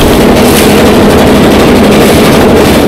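Motor trawler on Nikli haor, a loud, steady engine drone mixed with rushing water and heavy wind buffeting the microphone, continuous and close throughout, no talking.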